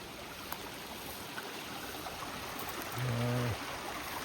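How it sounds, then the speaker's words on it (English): Brook water runs past an old dam in the woods, a steady, soft broadband rush with no pauses, and a brief low hum swells in near the end. "We came to the brook, and there's an old dam here."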